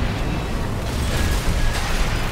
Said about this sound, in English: They have the explosion shotgun.